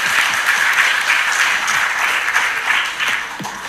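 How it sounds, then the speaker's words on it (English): A round of applause from the audience at a diamond panel of a jewelry trade symposium, steady dense clapping sustained throughout at moderate level. "let's give everybody a round of applause"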